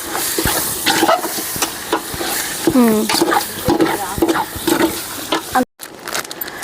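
A spoon scrapes and stirs salted chicken biryani mixture in a pan amid soft frying sizzle, with repeated short clinks and scrapes, a brief squeaky sweep, and a sudden cut near the end.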